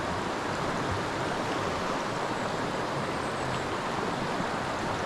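Broadband rushing water from a stream waterfall on a winter day, a steady, dense wash filling the whole clip without pause, close and fairly loud, with no voices over it.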